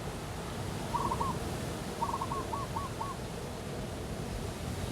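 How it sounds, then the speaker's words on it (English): Owl hooting outdoors in a calm natural setting: a soft series of low hoots, first a short pair, then a rhythmic run of five or so, faint over steady wave-like ambient noise. "How do you describe the sound of the bird?"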